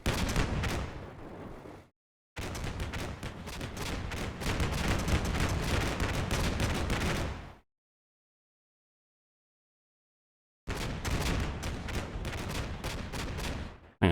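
Bradley infantry fighting vehicle firing in the wargame Combat Mission Black Sea: dense bursts of heavy gunfire in two long sustained stretches, with a brief gap early and a long silent pause before a final burst.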